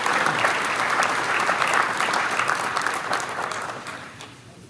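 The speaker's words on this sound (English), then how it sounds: "A big round of applause for all of the winners." An audience at a high school football awards ceremony applauds the winners: dense, loud, sustained clapping that holds steady and then fades out toward the end.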